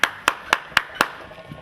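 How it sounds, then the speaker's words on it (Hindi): Five sharp, evenly spaced hand claps, loud and close, at a steady quarter-second rhythm, followed by a softer tap. "तालियां"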